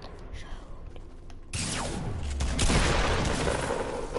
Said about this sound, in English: Why is there shooting in the circle?